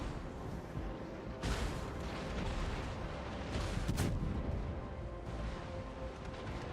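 Naval gunfire in a warship battle video game, a continuous dense roar of cannon booms and blasts, loud and close, with a sharper burst partway through.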